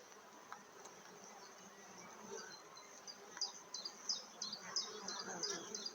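Honeybees in a hive buzz on the comb during tremble dancing to rouse foragers, a soft continuous drone with brief higher buzzy bursts growing more frequent toward the end, fairly faint and close.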